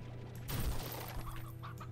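Slime Rancher chickens give a few faint, soft clucks over a low game hum, short and unhurried.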